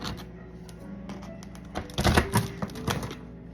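A knife saws through the hard, crusty exterior of an artisan bread loaf, giving close, crackly scraping strokes that grow louder and denser in the second half before trailing off.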